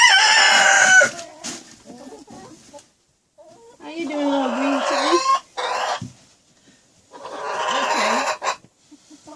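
Chickens cluck and a rooster crows in a barn on a Minnesota farm during an April snowstorm, the calls sounding between stretches of someone talking nearby.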